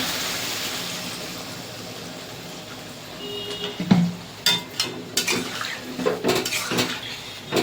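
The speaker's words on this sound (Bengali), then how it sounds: "কষানো হয়ে গেছে, দিয়ে দেবো জল।" Water poured into sautéed masala for a katla fish curry in a pan, a steady rushing pour at first, then clattering pot and utensil knocks and sputtering bursts close by.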